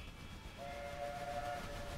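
A train in the Pummel Party video game sounds a faint two-tone whistle over a low rolling rumble, with the horn holding for about a second before fading back into the game's background noise.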